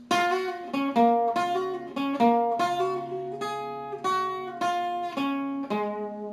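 A solo guitar plays a post-chorus riff, a clear picked melodic figure with hammer-ons on the second string, notes ringing cleanly and close, with no voice over it.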